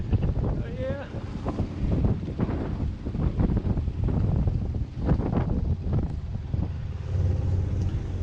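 Small old sailboat cruising in wind, with steady buffeting wind noise on the microphone and a broad rushing of water under the hull, continuous and close throughout.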